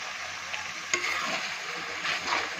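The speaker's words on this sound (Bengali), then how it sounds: "এইভাবে কিন্তু মশলাটা ভালো করে কিন্তু কষিয়ে নেবেন।" Masala being sautéed in a pan for mutton curry, a soft continuous sizzle with occasional spatula scrapes and taps, fairly close, without voices.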